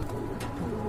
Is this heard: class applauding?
no